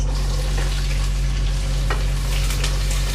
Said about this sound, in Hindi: इसी देर हमने प्याज को ज़रा फ्राई करना है कि इसका बस कलर ठीक सा हो जाए